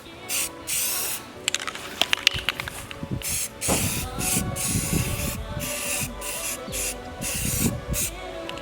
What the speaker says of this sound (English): take this molding piece here and see if we can spray paint